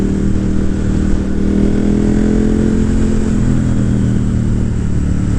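A motorcycle engine runs steadily close by, a loud low droning hum with a slight rise in pitch as it revs, continuous throughout with no talking.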